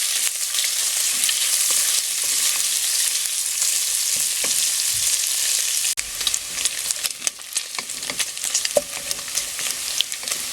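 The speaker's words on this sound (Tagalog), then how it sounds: "So, piprituhin lang natin itong pork." Pork frying in hot cooking oil, a steady loud sizzle with crackling pops, continuous throughout with no talking.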